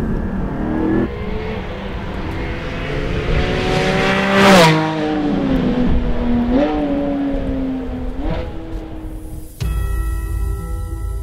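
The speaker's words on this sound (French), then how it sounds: "aujourd'hui on teste la nouvelle ligne Akrapovic de ce 718 GT4." Porsche 718 Cayman GT4 fitted with an Akrapovic exhaust revs loudly and close, its engine note climbing and holding through several blips. A brief sharp peak cuts in midway, and a changed, steady engine tone follows near the end.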